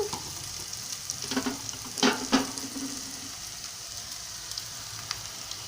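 Sliced onions salted and frying in a pan for a mutton curry, a soft continuous sizzle with a few louder stirring scrapes clustered near the middle.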